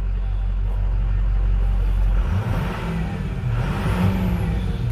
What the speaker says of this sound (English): Motor sounds